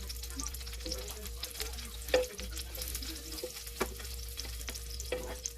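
Onions fry in oil in a pan with a steady low sizzle, broken by scattered sharp pops and spatters, close and moderately loud with no talking.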